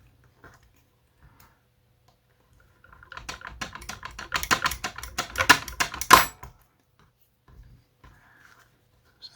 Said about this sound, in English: Now I've shown you this way of cutting tubing before. It knackers the scalpel